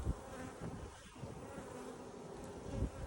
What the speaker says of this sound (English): Here's another baby bee.